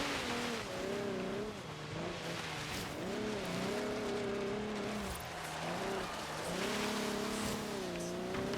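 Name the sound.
car sliding on snow in Forza Horizon 3 video game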